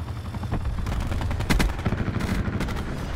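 ABR .223 rifle fire in Call of Duty Black Ops 4 rattles in rapid bursts over a rumbling battlefield backdrop, with a sharper, louder volley in the middle.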